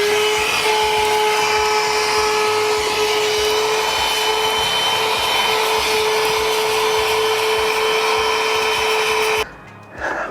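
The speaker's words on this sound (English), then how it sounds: "You want to use the vacuum to go ahead and get up that excess dirt and debris." A vacuum cleaner runs loudly and continuously close by inside a car with microfiber or Alcantara upholstery, with a steady high whine, cutting off abruptly near the end.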